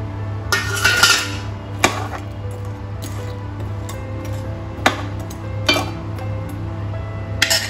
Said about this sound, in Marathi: बटाटे पण ॲड करते मी.